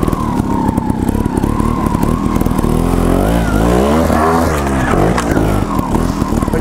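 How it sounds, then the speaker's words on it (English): A Gas Gas TXT 280 trials motorbike engine revs hard and fluctuates as it climbs steep rough ground, loud and close, with throttle bursts and a wavering pitch. "that's pretty gnarly stuff to be going up on a motorbike"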